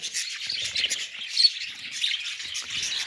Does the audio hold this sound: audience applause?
no